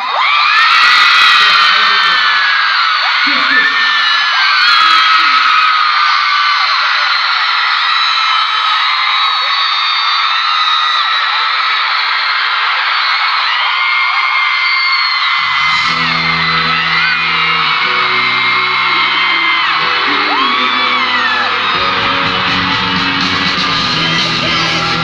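A concert crowd at a K-pop show in Mexico screams and cheers loudly and continuously, a dense roar of high-pitched voices, with music starting up beneath it partway through.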